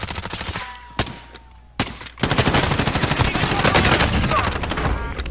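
Rapid automatic gunfire in the video game Call of Duty: Warzone, loud and close, with a few isolated shots early on before a sustained, dense burst of rattling fire through the rest.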